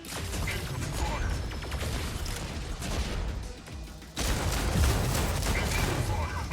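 Rapid gunfire and explosive impacts in the Mech Arena video game, a loud, continuous barrage of overlapping shots that drops briefly, then returns even heavier.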